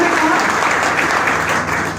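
Audience clapping at a live talk, a dense, steady wash of applause that stays loud and fairly even for the whole stretch, with no voices rising above it.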